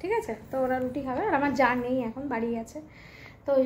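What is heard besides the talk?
None of the usual background noises is heard.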